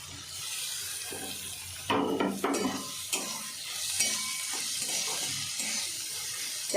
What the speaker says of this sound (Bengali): পেঁয়াজটাও ভাজা ভাজা হয়ে যায়। ক্যাপসিকামটাও দিয়ে দিলাম।